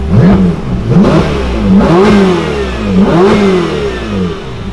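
Ferrari 488 Spider with an RYFT titanium exhaust revs in repeated throttle blips, each rising and falling in a rhythmic pattern, loud and close with no talking.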